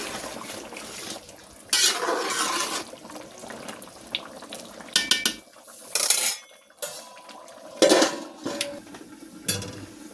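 Clattering pot and lid sounds in a kitchen while chicken curry is cooked, with several sharp metallic clinks and scrapes in separate bursts over a quiet background, ending as the pot is covered.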